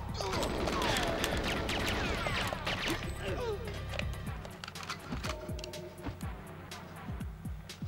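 Guards fire at the player in GoldenEye 007 on the Nintendo 64 in the Facility level: bursts of sharp game gunshots and impacts that come thick early and thin out over several seconds.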